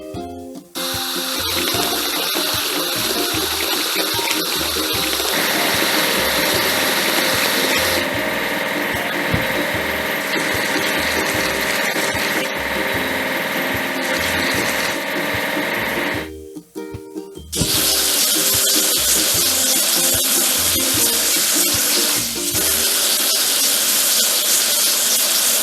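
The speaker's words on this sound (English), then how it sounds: "Let's wash hydraulic hammer." Washing a hydraulic hammer at a car wash in a kids' truck video game: continuous hissing spray and whirring machinery with layered tonal game effects, a brief drop near the end, then a brighter, louder rush of water.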